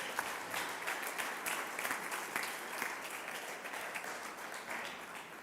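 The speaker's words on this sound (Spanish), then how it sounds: "Dales un aplauso," A church congregation applauds two people at a sermon, many hands clapping in a steady, fairly soft wash that continues evenly for several seconds.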